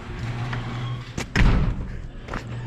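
A garage door on a farm shuts with a single loud, close thud partway through, set against a steady low hum and light background rustle.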